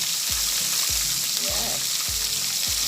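Fish pieces frying Jamaican style in a pot of hot oil, a broad continuous hiss close up, with a few low knocks from a long fork against the pot repeating at roughly half-second intervals.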